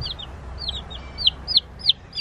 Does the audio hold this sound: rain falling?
no